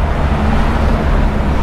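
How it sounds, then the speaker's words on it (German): Continuous loud roar of road traffic with trucks on a highway in Thailand near Saraburi, a steady close engine and tire rumble with no talk. "Jede Menge LKWs unterwegs."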